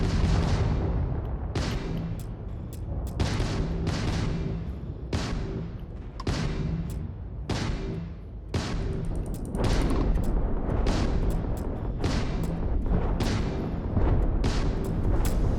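Repeated heavy weapon blasts from ship-to-ship space combat in the game Starfield, a steady barrage of loud booming shots over a continuous rumbling background for the whole stretch.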